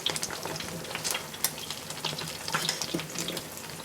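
Okra stew with fish stirred in a pot, a close, continuous bubbling and sizzling with soft scraping movements; no voices.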